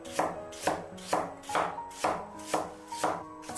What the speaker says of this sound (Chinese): 先给它切成薄片，